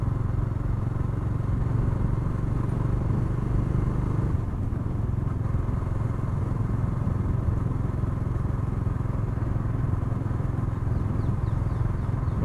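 A 2020 Bajaj Dominar 400 BS6 motorcycle cruising in fifth gear, its engine a steady continuous drone with road and wind rumble, loud and unbroken throughout with no voices.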